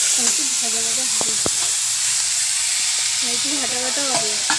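Chopped onion browning in oil for a potato chicken curry, a constant close sizzle running under a voice talking.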